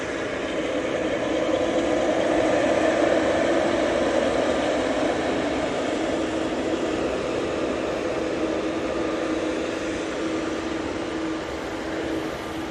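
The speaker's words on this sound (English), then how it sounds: "787-9 Dreamliner." A Boeing 787-9 Dreamliner departs for Palma de Mallorca with a steady, moderately distant jet roar, a low, even drone that holds without peaks and has no voices over it.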